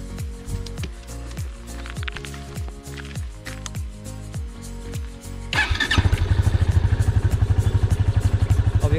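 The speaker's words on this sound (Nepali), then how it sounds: "अब स्टार्ट गरी हेरौँ" A secondhand motorcycle's engine is cranked and catches about two-thirds of the way through, then settles into a loud, rapid, steady putter close by; a different rhythmic mechanical sound runs before the start.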